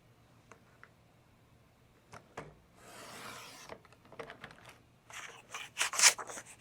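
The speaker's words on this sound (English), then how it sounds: "So I'm gonna get started with the cutting guide, and we'll cut down right this way." Scrapbook photos being cut with a cutting guide: a sustained scraping rasp of the blade drawn along the track, then several sharper slicing strokes and a final louder cut, close and alone without speech.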